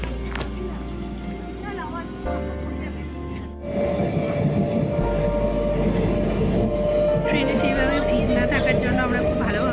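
Steady rumble and rattle of a passenger train in motion, heard from inside a carriage on a day trip, loud and continuous throughout with people talking over it.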